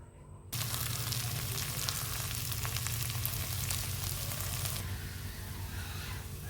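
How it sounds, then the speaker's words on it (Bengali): Rice for chicken biryani hits hot oil and spices with an abrupt, loud sizzle that holds steady, easing slightly toward the end. "মশলার মধ্যে এখন আমি চালটা দিয়ে দিচ্ছি। চালটাকে ভেজে নিতে হবে।"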